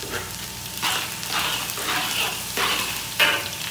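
Minced garlic and dried prawns frying in a pan, giving a steady sizzle with repeated bursts of louder crackle as the mixture is stirred, close and without talk.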